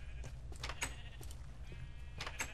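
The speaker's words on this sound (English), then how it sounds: "Let's go shear some sheep." Sheep bleat repeatedly in a video game, several overlapping calls in short bursts over a steady low background hum, fairly close and clear.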